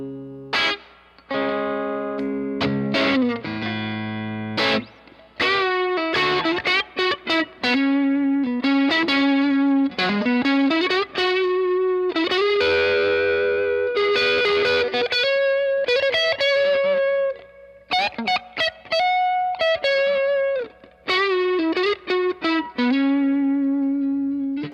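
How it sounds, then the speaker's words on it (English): Electric guitar through a D&M Drive pedal on its drive side at low gain, warm and thumpy, playing loud choppy riffs and sustained bends with short gaps, close and continuous. "Let's see what low gain sounds like here."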